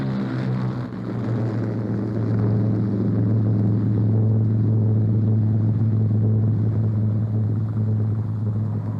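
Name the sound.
Air France Languedoc airliner engines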